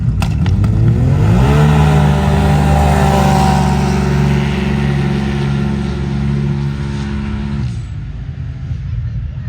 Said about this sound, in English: Right into round 2 of bracket. We got Rich Rules in the left lane, and we got Turbo S in the right lane.